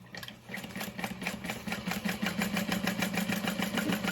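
A home sewing machine stitches through the layers of a bag with a 1/2 inch seam allowance, its motor whirring in a fast, even mechanical rhythm that starts softly and grows steady and close.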